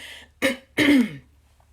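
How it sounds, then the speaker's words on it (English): Two short, harsh coughs close to the mic, one brief and one longer and raspier, with quiet gaps around them. "So sorry for all the coughing."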